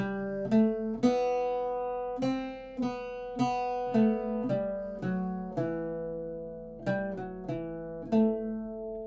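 An Irish bouzouki plucks a line of God Rest Ye Merry Gentlemen, bright struck strings in an uneven melodic rhythm, close and solo with no voices.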